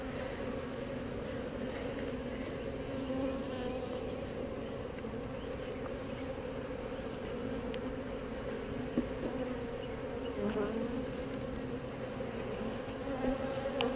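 Honey bees buzzing steadily around an opened hive during the first spring inspection, a close, continuous drone with no talk.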